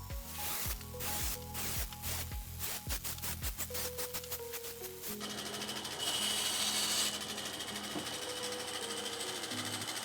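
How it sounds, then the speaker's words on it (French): A band saw whirs with rapid rhythmic pulsing at first, then settles into a steady, higher-pitched cutting drone as the blade roughs out a wooden clog. "je vais faire l'ébauche à la scie à ruban"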